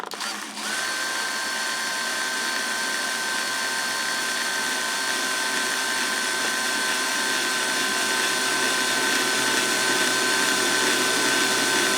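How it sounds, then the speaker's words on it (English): A power drill bores a hole into a Gretsch guitar body to mount a Bigsby vibrato, a steady loud whine with a sharp start that holds unbroken for about twelve seconds, alone without talk. "so we can drill our first hole out now"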